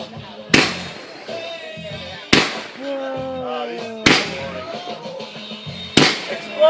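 Fireworks explode in four sharp, loud bursts spaced about two seconds apart, each followed by crackling and whistling trails, while people cheer and talk in the background.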